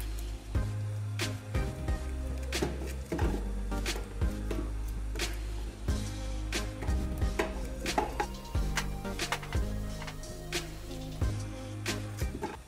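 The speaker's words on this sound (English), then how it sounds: "Cut the core of the black zucchini with a knife" A knife chops black zucchini against a cutting board in repeated sharp taps at an uneven, steady pace, close and clear, over a low kitchen hum with no voices.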